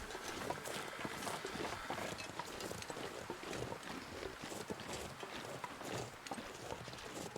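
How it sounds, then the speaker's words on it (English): Steady wind blows through a snowy outdoor setting in the survival video game The Long Dark, a broad continuous rush with gusty fluctuations and no speech. "It might be too windy now."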